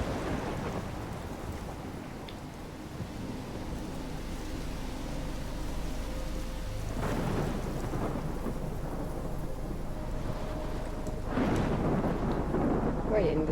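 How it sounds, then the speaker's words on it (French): A thunderstorm in the video game Life is Strange, with steady heavy rain and deep rolling thunder swelling twice, loud and continuous, with a few faint voice sounds. "il y a une de ces tempêtes, c'est un ouragan"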